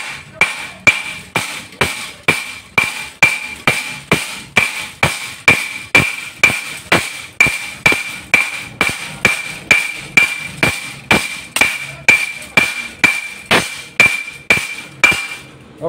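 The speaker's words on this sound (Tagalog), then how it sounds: "Pokpokin mo mga kalisarte." Steady, evenly spaced hammer strikes on metal flat-bar latches of an accordion door, roughly two blows per second, each a sharp ringing metallic hit, loud and close, with no talk.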